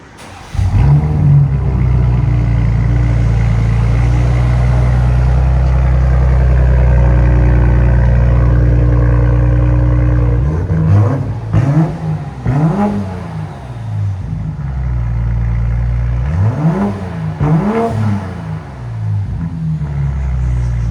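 Exhaust of a 2025 BMW M340i with its 3.0-litre turbocharged inline-six, droning loudly at a steady idle before a series of sharp revs rise and fall, with another burst of revving toward the end.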